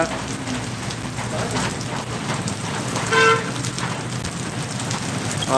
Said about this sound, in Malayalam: അതിഭീകരമായ മഴയാണ് കൊട്ടാരക്കരയിൽ നടന്നുകൊണ്ടിരിക്കുന്നത്